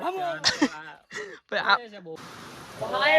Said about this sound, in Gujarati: ફૂલ વરસાદ એટલો વરસાદ છે